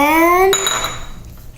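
Spoon clinks and scrapes against a mug while vanilla mug cake batter with chocolate chips is mixed, opening with a brief high squeal before a short run of close clatter.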